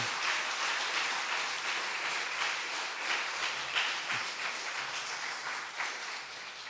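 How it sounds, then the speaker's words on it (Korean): A church congregation applauding during a Sunday afternoon service, with many hands clapping in a continuous, fairly soft wash that holds steady for several seconds. "박수해 주세요."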